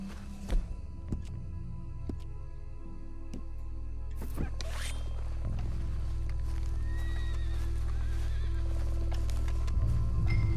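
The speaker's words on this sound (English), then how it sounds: "Let's leave the horses here." Horses in the Red Dead Redemption II video game neigh and whinny close by, with hooves clip-clopping and tack rustling, over a steady low rumble that builds through the scene.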